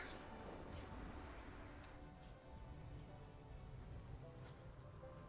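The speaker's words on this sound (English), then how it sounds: "now we're back out in the rain again" Steady rain falling in a video game set in an outdoor town center, a constant hiss of drops on surfaces with a few faint ticks, moderately quiet and continuous, with no voices.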